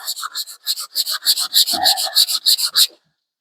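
Rhythmic hand sanding of clear coat on a 1966 Ford Mustang, about a dozen quick rasping strokes in a brisk back-and-forth pattern, close and loud, ending abruptly in silence.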